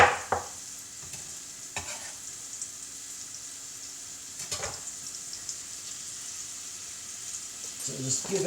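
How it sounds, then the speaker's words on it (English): Finely chopped vegetables sweat in a pan over medium heat, with a steady soft sizzle and a few spoon scrapes and stirs. Brief low voice sounds come near the start and end. "So just give it a stir"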